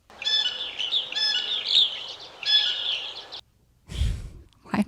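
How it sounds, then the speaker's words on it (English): A sparrow calls in a quick run of bright, repeated chirps in three bursts, close and clear, then stops; a short breathy sound follows near the end. "that sounds like a sparrow"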